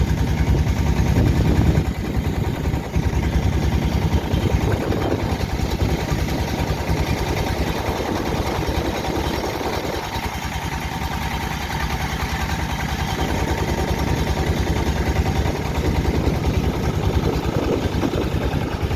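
A boat engine drones loudly and continuously throughout while crossing the Meghna River, a low, unbroken motor rumble close by with constant vibration and no pauses.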